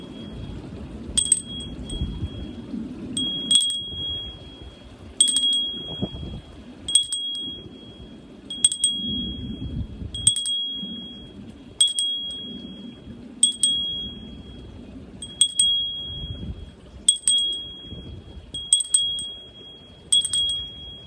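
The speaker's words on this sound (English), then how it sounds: "what I usually do is that I just simply ring the bell like this." A small hand bell bearing a Wiccan symbol is struck repeatedly, about ten clear bright dings spaced roughly two seconds apart, each ringing briefly over a low background hum.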